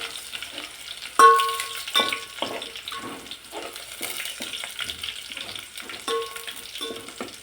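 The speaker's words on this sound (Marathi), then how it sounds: "आता लसूण चांगला तेलात फ्राय करून घ्यायचा आहे, ब्राऊन होईपर्यंत तळून घ्यायचा" Garlic fries in oil in a pan, with a soft steady sizzle under a series of spoon or spatula stirs and scrapes that come in quick close bursts.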